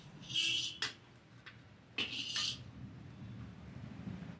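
Metal utensil scraping and clinking against a pan as cooked gongura leaves are transferred to a plate, a few brief scrapes followed by a low background hum.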